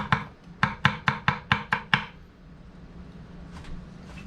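A Dao Vua pipeline steel nakiri knife chops down on a cutting board seven times in quick, evenly spaced, crisp strokes close by, followed by quiet.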